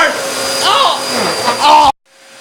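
A Hoover Elite Deluxe Rewind Megacharge Swifter vacuum cleaner runs with a steady whining drone under loud overlapping voices, then cuts off abruptly, leaving near silence with a faint lingering tone.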